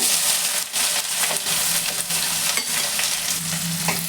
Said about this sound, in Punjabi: ਇਧਰ ਤੇਲ ਹੋ ਚੁੱਕਿਆ ਹੈ ਗਰਮ ਇਹਦੇ ਵਿੱਚ ਪਾਵਾਂਗੇ ਆਪਾਂ ਛੋਟੀ ਚਮਚ ਜੀਰਾ ਜੀਰਾ ਟਿੜਕ ਗਿਆ ਹੈ ਹੁਣ ਪਾ ਦਾਂਗੇ ਆਪਾਂ ਇਹਦੇ ਵਿੱਚ ਪਿਆਜ਼